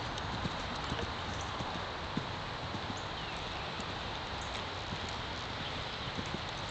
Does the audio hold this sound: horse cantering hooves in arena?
yes